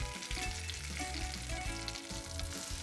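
Flour-dredged chicken frying in a pan for a Greek braise with quince, a steady dense crackling sizzle that carries on loud and close with no voices.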